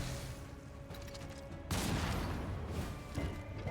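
Mortar barrage in Darkest Dungeon II combat: a steady rumbling din, then a sudden loud, dense burst of explosive booms that stays thick and heavy to the end, with no talk.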